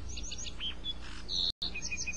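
Sparrows chirp in a natural outdoor setting, giving short, high tweets and a brief trill over steady low background noise, fairly faint, with one abrupt dropout.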